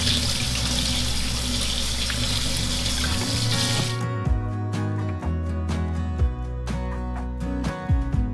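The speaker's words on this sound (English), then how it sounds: "We're gonna go ahead and rinse these off and get these on the stove." Freshly picked garden vegetables rinsed under a running kitchen tap: a strong, steady rush of water, then splashing and light clattering as the produce is handled in the stream.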